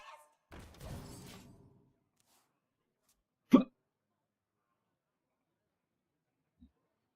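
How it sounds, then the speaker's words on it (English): A single sharp hiccup, likely from a video game character, stands out alone after some brief talk, with a faint tiny blip near the end and silence around it. "the hiccups aren't gonna fucking go away"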